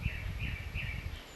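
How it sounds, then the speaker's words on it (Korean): A nuthatch at a woodpecker's nest hole in a wetland gives three quick, evenly spaced chirping notes. They are fairly clear over a low background rumble, and no one speaks. "딱따구리의 집을 차지한 동고비입니다."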